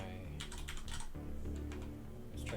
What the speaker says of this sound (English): try typing properly.